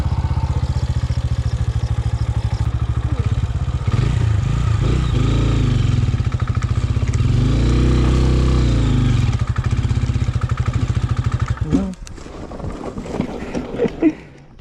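A motorcycle engine runs loudly and steadily close by, revving up and down, then cuts out near the end amid clattering.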